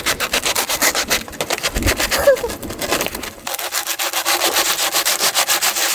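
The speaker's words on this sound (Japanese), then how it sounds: "ヤスリがけって楽しくない？" Wood sanded by hand with coarse sandpaper during a budget renovation of a 30-year-old washroom, a loud, close, rhythmic back-and-forth rasping that keeps going steadily with no pause, and no voices.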